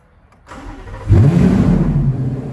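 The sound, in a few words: Chevrolet Corvette C8 Z06 with Kooks headers engine starting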